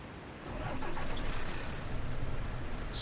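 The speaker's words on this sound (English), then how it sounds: "Start the engine back up." A coach bus engine in the Fernbus Coach Simulator game cranks and catches, settling into a steady, loud diesel rumble that holds evenly for a few seconds with no talking.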